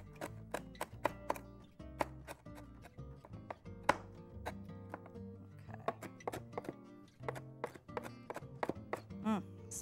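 A sharp knife finely chops a tough ingredient on a board in rapid, crisp knocks, with uneven bursts and short pauses, close and fairly quiet.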